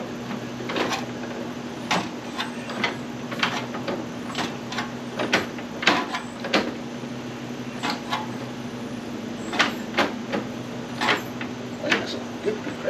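A 1937 Austin 7 engine is turned over slowly by hand, giving a long series of dull mechanical clunks and scrapes in an uneven rhythm, close by over a steady low hum.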